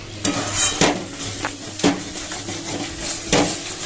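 Spice masala stir-fried in a pan, steady low sizzle broken by four or five distinct spatula scrapes and knocks against the pan at uneven intervals, close and moderately loud.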